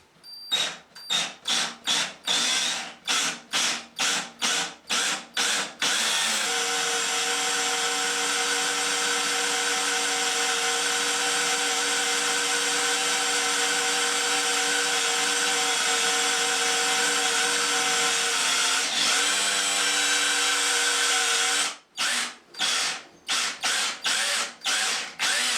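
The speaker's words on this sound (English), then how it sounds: "we're going to go through with a small diameter drill bit first" A power drill with a small-diameter bit bores through bathroom wall tiles. Short bursts rev up first, then one long, steady, close whine runs for about fifteen seconds, followed by more quick bursts at the end.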